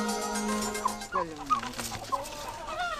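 Korean native chickens and farm hens clucking close by, a run of rapid overlapping clucks and squawks rising and falling, loud and busy with little else underneath.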